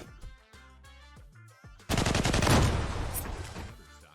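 Gunfire in the video game Zula: after a short stretch of music, a loud rapid burst of automatic fire rattles continuously for about two seconds, then fades.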